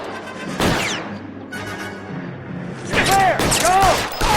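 Gunfire in the video game L.A. Noire cracks in several sharp bursts, with a volley near the start and a denser cluster at the end, while characters shout over the shooting.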